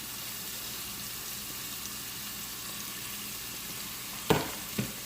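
Chopped garlic cooking in a pan for shrimp alfredo, a soft, steady low sizzle running throughout, with two sharp clinks near the end and no voices.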